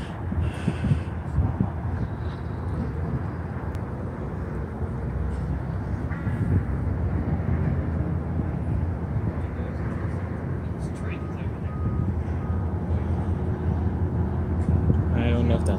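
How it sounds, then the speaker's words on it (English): A freight train led by GP38N and SD40-2 locomotives rumbles past nearby, a steady, loud, low roar of engines and rolling wagons that swells slightly toward the end and lasts throughout. "That was the 4 train, 281 GP38N and a 1600 SD40-2."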